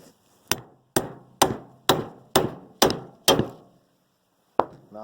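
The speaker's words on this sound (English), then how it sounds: "hammer that down so that you can get both of these clips in on either side" Steel hammer knocking a U-joint bearing cap down into its yoke, seven sharp metallic blows in an even rhythm followed by a pause and one more strike, loud and close with no talking.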